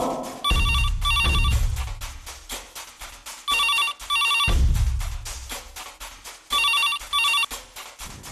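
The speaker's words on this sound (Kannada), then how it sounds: "ನಿನಗೆ ಫೋನು." A telephone bell rings in repeated double bursts, loud and close, with quiet pauses between rings and no talk over it.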